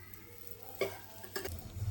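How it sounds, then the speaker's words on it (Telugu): An onion paratha made with jowar flour sizzles in oil on a chapati pan, a soft steady frying hiss near the mic with a couple of brief scraping or turning clatters, no voices. "తర్వాత మనం ఈ పరోటాని చపాతీ పెనం పెట్టుకొని రెండు వైపులా ఆయిల్ వేసుకుంటూ కాల్చుకోవాలి"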